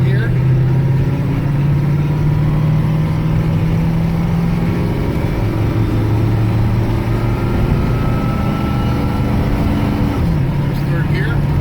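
A 1993 Ford E350 4x4 ambulance with a 7.3L diesel engine driving and shifting gears, its steady engine drone rising and falling in pitch between shifts, loud and close throughout, with people talking over it.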